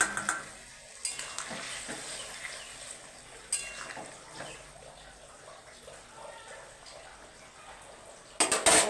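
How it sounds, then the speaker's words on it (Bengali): Vegetables fried in a pan and stirred, quiet sizzle under scattered metallic scrapes and clinks of a spoon against the pan, with a louder burst of clatter at the end. "এটাকে একটু লাল লাল করে ভাজবো"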